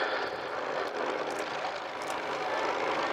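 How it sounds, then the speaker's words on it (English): An Avro Anson aircraft, a type first flown in 1935, passes at an airshow; a steady broadband engine and propeller roar fills the air, fairly distant and continuous. "And it was 1935 when this aeroplane first flew"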